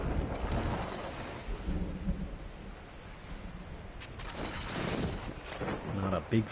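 Thunderstorm with rain rolling in at sea in the King of Seas video game on PS5: a steady wash of rain with low, rumbling thunder swelling near the end, mixed with other game sounds.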